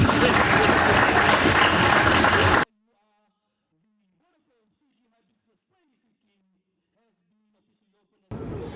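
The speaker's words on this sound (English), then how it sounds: "Ladies and gentlemen, boys and girls, a round of applause." Loud, dense applause from a crowd at the opening of the 2015 Vodafone Hibiscus Carnival in Fiji fills the first couple of seconds, cuts off into near silence, then returns briefly at the end.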